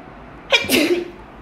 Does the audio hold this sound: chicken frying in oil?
no